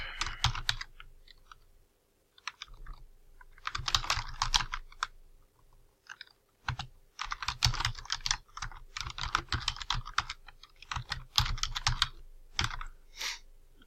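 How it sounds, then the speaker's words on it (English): Typing on a computer keyboard, close and clear, in irregular bursts of rapid key clicks separated by short pauses. "You notice that I had started typing in caps and I backspaced and did lowercase."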